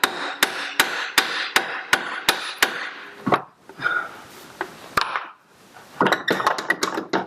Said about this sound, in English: hammer the shock down a bit more.